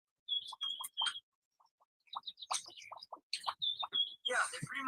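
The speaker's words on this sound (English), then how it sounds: "they're pretty much associated with bird noises, bells, and light bubble sound" Bright bird-like chirps and tweets, bell-like tones and light bubbly pops, imagined as the sound of the color yellow, come in short bursts separated by brief pauses and build to a dense burst at the end.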